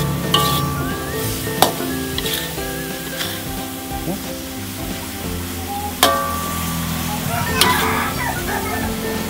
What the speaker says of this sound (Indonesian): Oke, kita aduk rata sampai di sini.